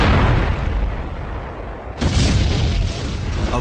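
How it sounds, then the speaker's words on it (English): Artillery shells exploding during a war battle: a continuous, loud rumbling roar of blasts, with a sudden fresh heavy boom partway through, dense and without speech. "artillery shells begin exploding everywhere"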